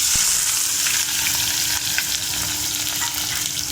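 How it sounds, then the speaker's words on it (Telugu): Onion, green chilli and curry leaves frying in oil for upma, a steady loud sizzle and crackle throughout with faint stirring, no voices. "కరివేపాకు 3 వేసేసాం కదా, బాగా ఫ్రై కావాలి. బాగా కొంచెం గోల్డెన్ బ్రౌన్ రావాలండి ఆనియన్."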